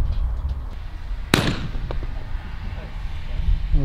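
A 28 gauge shotgun fires during an outdoor pigeon hunt: one sharp, loud report cracks out partway through with a fainter echo after it, while people talk nearby.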